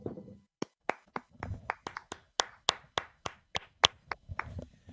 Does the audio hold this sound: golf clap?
yes